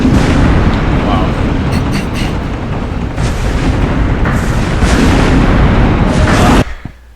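A torpedo strikes a ship in the naval video game Naval Assault: The Killing Tide, a loud sustained rumbling explosion with crackling bursts that cuts off abruptly near the end.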